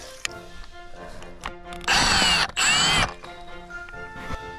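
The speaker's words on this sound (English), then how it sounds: "Drill it on the other side." Two close, loud bursts of a power drill biting into material during a plumbing job, each about a second long and separated by a brief pause, with quieter background noise around them.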